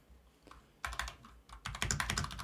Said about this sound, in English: I'm on Google, and I want to type Polygon